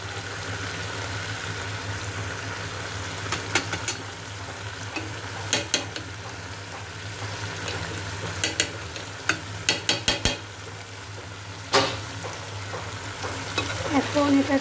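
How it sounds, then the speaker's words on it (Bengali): Chutney being stirred and sautéed in a pan after sugar goes in, with a steady frying sizzle under repeated scraping and clacking strokes of a spoon, some sharp knocks clustered near the middle and end; no talking. "এখন এটাকে অনেক ভালোভাবে কষাতে হবে।"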